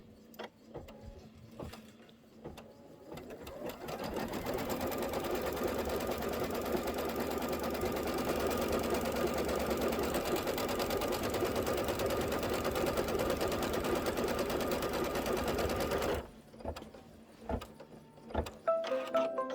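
A Kimberbell embroidery sewing machine stitching a fabric placement line, a steady mechanical whirring hum running for about twelve seconds, with handling clicks and taps before and after.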